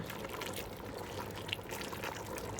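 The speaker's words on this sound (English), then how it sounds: "when I put the pigtail water in the greens" Pigtail cooking water is poured into a pot of collard greens, a steady splashing pour that runs continuously for a few seconds, moderately loud and close, with no talking.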